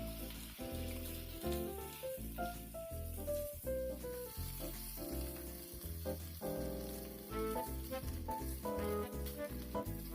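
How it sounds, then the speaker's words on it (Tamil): Chicken sautéing in a pan over a medium flame, a soft continuous sizzle with crackling, fairly quiet and steady throughout, no one talking. "சிக்கனோட ஸ்மெல் போகிறதுக்காக மீடியம் ஃப்ளேமில் ஒரு 3 to 5 minutes வரைக்கும் நல்லா வதக்கிக்கலாம்."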